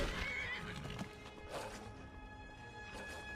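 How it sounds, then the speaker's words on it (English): A horse whinnies and snorts amid clip-clopping hooves in the video game Skyrim, with a faint tonal background hum; moderately loud and fairly close. "The horse won't hate me anymore."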